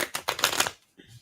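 Playing cards shuffled in two quick riffled bursts at close range, a dense ruffling flutter followed by a brief pause and a softer final patter, no talk over it.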